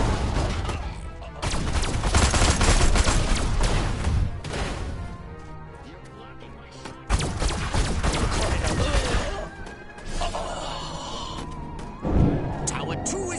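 Sustained bursts of gunfire and crashing impacts from the video game Destroy All Humans! roll on loudly in waves, broken by brief pauses, with game voices talking over the shooting.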